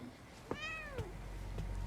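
A cat in the horror video game The Medium gives a single clear, rising-then-falling meow at close range, followed by faint ambient game sounds and no talk.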